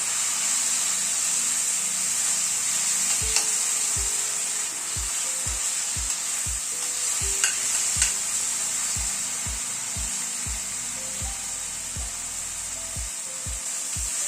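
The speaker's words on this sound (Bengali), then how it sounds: "কড়াইশুঁটিটা দিয়ে এই মিনিট খানিক একটু নাড়াচাড়া করে নিলাম।" Green peas stirred into tomato that has been cooked down with spices in a pan for spinach dal: a steady close sizzle runs throughout, with a regular series of spatula scrapes and taps against the pan, and no talking.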